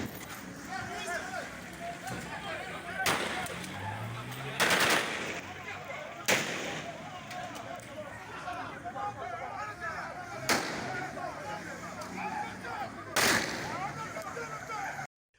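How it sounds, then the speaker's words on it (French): Exchange of gunfire during an armed raid: a handful of loud, sharp shots spread irregularly through the clip, sounding at a distance under continuous talking and a busy background. "S'en est suivi des échanges de tirs."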